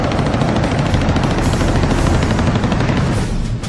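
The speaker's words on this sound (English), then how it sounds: "2 MiG-17s firing on Israeli troops" Continuous rapid machine gun fire from MiG-17 fighter jets strafing troops, a loud, dense, unbroken rattle of bursts lasting several seconds, dipping slightly at the end.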